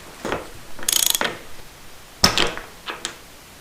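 A socket ratchet clicks while loosening the top fork tube caps on a Suzuki TS185 motorcycle, giving several short bursts of rapid close ratcheting separated by brief pauses, with no talking.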